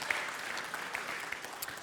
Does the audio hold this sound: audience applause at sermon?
yes